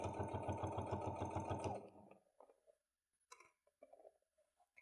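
A domestic sewing machine runs a fast, even run of reinforcement stitches for under two seconds, then stops, leaving quiet with a few faint clicks and small handling noises.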